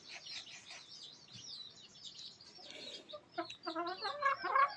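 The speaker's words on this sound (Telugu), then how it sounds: "ఈ పుంజు మాత్రం వీటి కోసం తీసుకొచ్చాను." Hens and a rooster clucking and calling close by in a breeding coop, a run of short overlapping clucks and squawks that grows busier and louder toward the end, with no talk.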